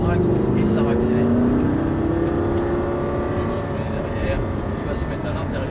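A Lamborghini Gallardo pulls out of a turn and accelerates, its engine a loud, steady drone with rising pitch lines while an instructor talks over it.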